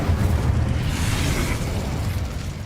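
A fiery Incendio spell blast in Hogwarts Legacy, a loud, sustained roaring burst of flame heard up close and alone, dense low rumble holding steady for a couple of seconds before easing slightly.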